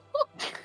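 A single short sneeze, a quick voiced intake followed by a breathy burst, close to the microphone in a quiet room.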